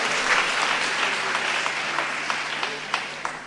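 Congregation applauding during a French-language church service with testimonies of healing, a steady dense clapping that holds at an even level throughout, with a faint hum underneath and a few sharper claps standing out near the end.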